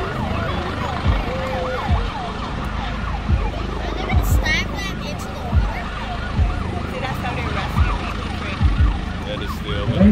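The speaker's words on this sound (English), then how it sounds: "You can hear the siren on that helicopter" A helicopter's siren wails in rising and falling sweeps at an airshow in Cayman, heard at moderate distance over a busy outdoor background with scattered thumps and brief bursts of crowd noise.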